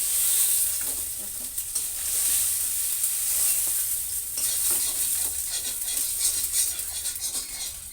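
Small rohu fish frying in oil in a pan, a loud continuous crackling sizzle with bursts of popping and spatter, close up and unaccompanied by talk.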